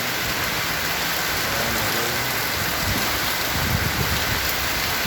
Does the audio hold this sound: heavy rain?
yes